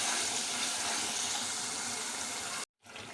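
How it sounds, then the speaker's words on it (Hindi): Water splashes into a pan of frying masala for achari baingan, a loud continuous hiss and sizzle that runs steadily before cutting off briefly near the end. "और थोड़ा सा पानी डाल के और भूनते हैं हम।"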